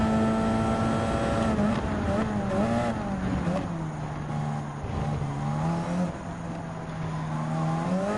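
A 1990s Japanese Grand Touring Car Championship race car in Gran Turismo 7 drones loudly and continuously, its engine note wavering up and down through gear changes and throttle shifts with no talk.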